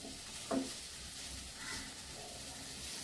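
Okra rice cooking slowly over a low flame, giving a faint, steady sizzle with soft stirring scrapes throughout, one brief clatter near the start, no voices.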